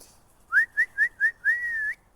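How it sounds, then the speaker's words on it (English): A person whistles to call a dog back on a walk: four short rising notes followed by one longer sliding note, clear and fairly close in a quiet setting. "We're going to whistle him back."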